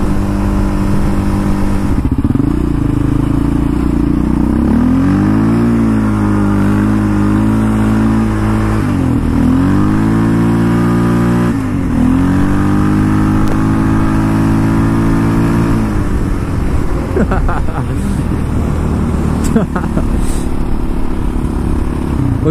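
A 2019 Yamaha Raptor 700 ATV on a country road, engine loud and close, revving up through several gears with rising pitch sweeps and brief dips at shifts, then settling into a steady drone with wind rumble.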